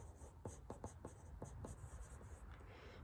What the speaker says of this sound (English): So I'm going to write snowflakes.